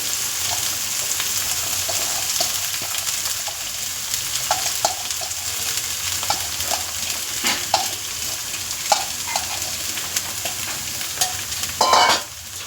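Shredded cabbage, onion and potato stir-fry together in a pan. A loud, steady sizzle is punctuated by scraping stirs, with no talking.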